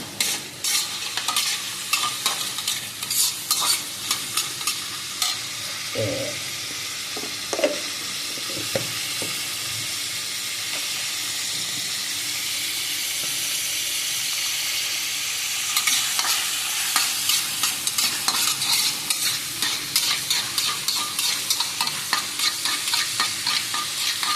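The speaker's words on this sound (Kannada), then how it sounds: "ಈಗ ಮಸಾಲೆಯನ್ನು ಫ್ರೈ ಮಾಡುವ" Masala sizzles in oil in a pan for a ridged gourd gojju, with a constant close hiss and repeated scraping stirs, more frequent near the start and end.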